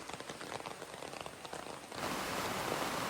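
Steady rain falls on a surface during a rainy day, a soft scattered patter that swells into a louder, denser, continuous wash halfway through, with no voices.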